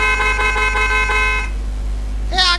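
A vehicle horn in a Bangladesh driving game blares in a run of rapid repeated honks for about a second and a half and then stops. A brief higher tone follows near the end, loud and close.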